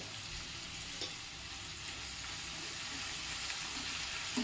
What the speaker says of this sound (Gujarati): લીલી ડુંગળી નાખ્યા બાદ આપણે તેમાં હળદર પાવડર અને થોડી એવી હિંગ આ બંને વસ્તુ એડ કરવાની છે।